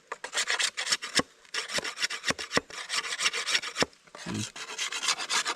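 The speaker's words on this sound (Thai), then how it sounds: "เอาผ้าลูบออกนะ" A cloth rubs along a sharpened wooden object in a forest survival setting, repeated rasping strokes in an uneven rhythm, close and fairly loud, with short pauses between the strokes and no talking.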